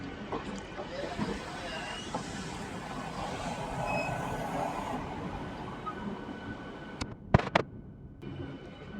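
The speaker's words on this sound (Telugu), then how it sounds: "మన ట్రైన్ కాజీపేట జంక్షన్లకి ఎంటర్ అవుతుంది" A MEMU train on the Warangal–Secunderabad line runs into Kazipet junction, giving a continuous rolling rumble heard from inside the train, with sharp clattering knocks toward the end.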